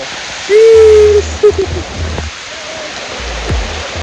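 Steady rain falls outdoors during a walk to search for mushrooms, a continuous broadband hiss filling the scene, with a few brief tonal voice-like sounds and low thumps over it.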